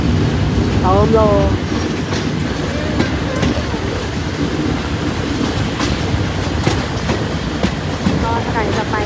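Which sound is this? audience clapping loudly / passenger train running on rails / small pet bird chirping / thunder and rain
passenger train running on rails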